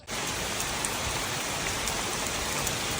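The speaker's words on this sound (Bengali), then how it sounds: "দেখতে দেখতে আবার বৃষ্টি নামলো বেশ জোরে সোরে বৃষ্টি" Heavy rain pouring steadily in the Sundarbans mangrove forest, a dense, even roar of drops with no break across the whole stretch.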